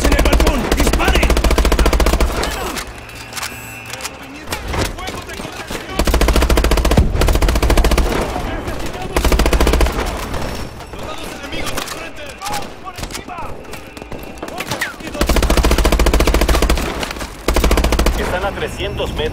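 Sustained automatic machine gun fire in Call of Duty Advanced Warfare, loud bursts rattling through a reactor-area firefight with shouted voices and battle noise, fire surging and easing in several waves.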